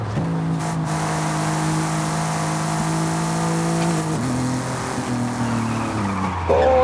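A VW Golf R32 Mk.4 in Forza Horizon 5 driving with a steady engine drone and long squealing tyre skids, shifting pitch near the end, close and loud with no talking.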